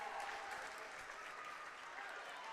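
Spectators applaud steadily at a high school volleyball match between Beulah and Russell County, a fairly faint, even wash of clapping with no voices over it.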